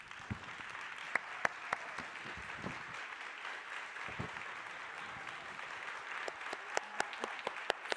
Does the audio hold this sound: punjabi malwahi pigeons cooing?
no